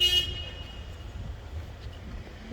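A car horn near apartment blocks gives a short, sharp toot at the very start, then fades into quiet background traffic rumble for the rest.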